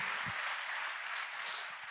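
A congregation at a Telugu Christian worship service claps hands in steady, dense applause, a continuous bright patter filling the short moment without a break.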